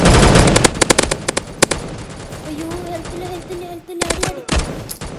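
Rapid automatic gunfire in the shooting video game Mask Gun, loud bursts of close shots in quick volleys, followed by a quieter stretch and another short burst, with someone talking over the action.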